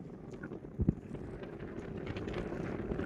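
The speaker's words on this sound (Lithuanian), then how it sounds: "Vėjukas." A breeze blows across an island shore as a ferry comes in to dock. It makes a steady, rough rumble of wind against the microphone, with one brief, louder gust thump early on.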